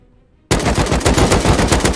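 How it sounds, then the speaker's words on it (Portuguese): AK rifle fire in a video game erupts after half a second of silence, then continues as loud, rapid, sustained automatic bursts with no talking. "o cara tá atirando de AK dos dois UF"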